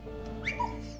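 A dog whimpering in the World War I video game Valiant Hearts: The Great War, two short, high rising whines over a low steady background hum.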